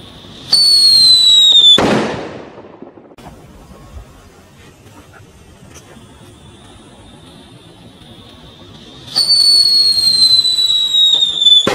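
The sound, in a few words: Super Kaget jumbo firecracker exploding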